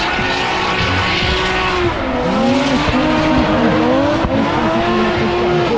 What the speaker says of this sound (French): aujourd'hui était le premier événement de drift de 2022 à Vladivostok avec le beau temps qui arrive